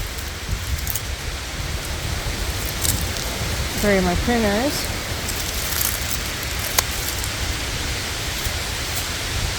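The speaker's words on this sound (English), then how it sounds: "We got lots of wind, if you can hear it in the background." Strong outdoor wind roars as a steady broadband rush, with gusty buffeting across the whole span, while a person speaks briefly partway through.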